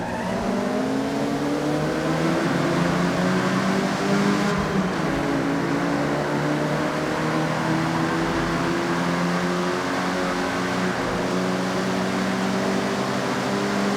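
A Honda Civic RS driven in Forza Horizon gives a steady, loud engine drone whose pitch slowly climbs and sags as it runs through the gears, with faint tire noise underneath and no talking.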